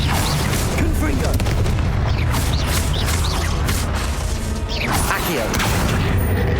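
Confringo blasting spell cast in Hogwarts Legacy on PC, a loud dense barrage of booming impacts and crashing blasts that continues steadily, with game effects layered over it.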